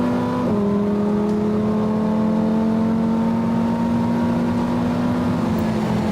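A Lamborghini Huracan STO's V10 runs at a steady, loud idle, waking up with a brief dip in pitch early on, then holding an even, droning note with no talk over it.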